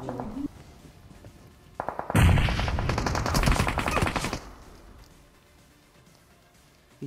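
Gunfire in PUBG: after quiet, a loud burst of rapid automatic shots breaks out and rattles on for about two seconds, then fades into distant, sparser firing.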